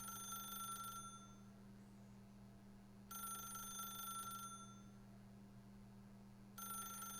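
A telephone in the video game The Stanley Parable rings in repeated bursts separated by pauses of about two seconds, over a steady low hum and with no talking.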